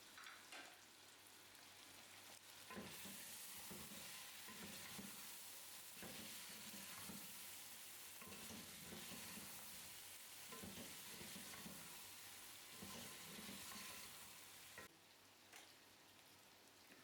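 Spices, salt, turmeric and crushed red chili fry in a pan for chicken curry, a loud, dense sizzle with rhythmic scraping swells of a spoon stirring throughout, no talking.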